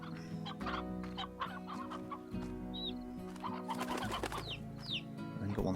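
Chickens cluck and squawk in the game Slime Rancher, several close calls and chirps over a steady game backdrop, with no talking.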